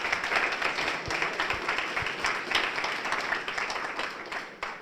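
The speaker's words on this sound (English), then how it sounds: "Another round of applause to all the teams." Audience applause for the teams at a student pitch competition, a dense patter of many hands clapping continuously in a room, moderately loud and steady, no speech.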